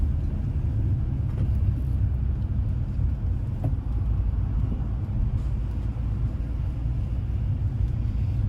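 A six-speed Infiniti G35 coupe with a VQ35DE-R engine pulls hard in third gear on the street. A steady, heavy low engine drone and road rumble are heard from inside the car, sustained without breaks, and no one speaks.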